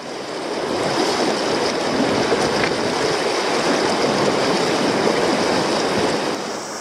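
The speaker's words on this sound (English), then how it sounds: "the sound of the weir next to me" Water rushes over a river weir in a loud, continuous broadband roar that stays close and constant throughout, with no voices over it.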